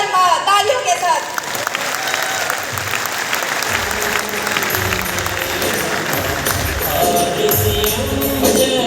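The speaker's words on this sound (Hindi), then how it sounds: "तालियों के साथ" Loud, sustained applause fills a Hindi-language event as a woman is invited on stage, with dense clapping and crowd noise and some voices mixed in throughout.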